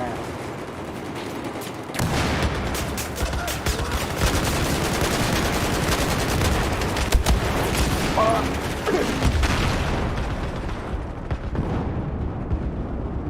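Gunfire in the video game Battlefield 4, with dense, continuous battle noise of shots and explosions running throughout at steady loudness, louder after the first two seconds, with faint voices mixed in.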